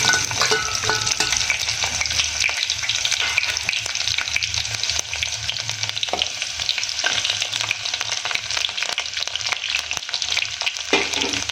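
Finely chopped onion sizzles in a pan with roasted garlic, a continuous close frying crackle with occasional stirring scrapes throughout, no voices over it.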